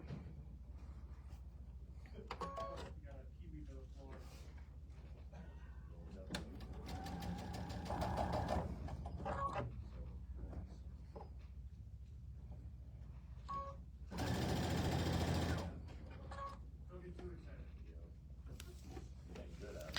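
A sewing machine stitches a Riley Blake tabletop banner in two loud, steady runs, one of about a second and a half and a later slightly longer burst, with people chatting casually before, between and after.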